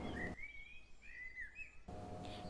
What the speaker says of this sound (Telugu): ఇద్దరూ చిన్న చిన్న చిలుక పాటలు పాడుతూ అడవిలో తిరుగుతూ రోజంతా ఆనందంగా గడిపేవి.